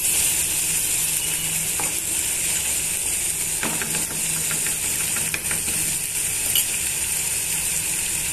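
A ginger, garlic and coconut paste sizzles loudly in a pan for chicken fry, a constant dense hiss with occasional spatula scrapes and pops; no one speaks.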